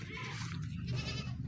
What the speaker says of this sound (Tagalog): mga kambing ng kapatid ko